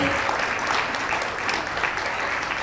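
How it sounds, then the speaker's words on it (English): Audience at a fundraising gala applauding: steady, dense clapping from a crowd, loud and continuous throughout. "please give them all a big round of applause"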